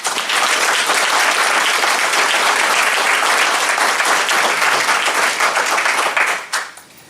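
A crowd gives enthusiastic applause for teachers at a school event, loud dense clapping sustained for several seconds before fading out at the end.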